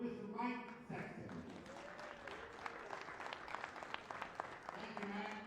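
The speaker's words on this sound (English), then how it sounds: "Give a big round of applause for Mr. Mike Sexton." Applause rises for poker commentator Mike Sexton at a World Poker Tour final table event in the Philippines, a steady dense clapping crowd lasting throughout, with voices and cheering mixed in near the start.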